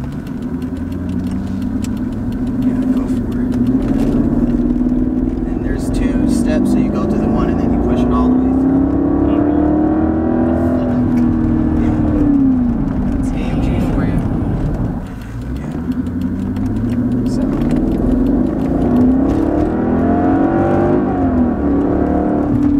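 A Mercedes S55 AMG engine idles and revs at close range, a deep rumble that swells and falls in repeated pulls, with people talking over it.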